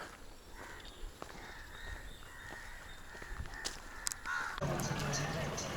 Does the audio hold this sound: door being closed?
no